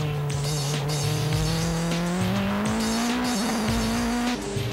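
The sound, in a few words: race cars during a Super GT race, the ARTA Garaiya and the Esso Supra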